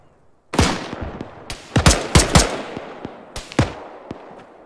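Gunfire in Arma 3 during a rooftop fight against rioters: a loud sharp report followed by several more single shots in an irregular sequence, each ringing out with a booming echo.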